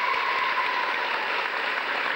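An audience at a 1983 schools festival applauds a young pianist, a dense, steady wash of clapping filling the hall without pause.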